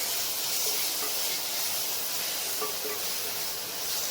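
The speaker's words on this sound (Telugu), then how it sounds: "కొత్తిమీర పేస్ట్ తీసుకున్న తర్వాత 2 మినిట్స్ ఫ్రై చేయండి" Coriander paste frying in a pan for coriander rice, a steady soft hiss and sizzle throughout, even and fairly quiet with no talking.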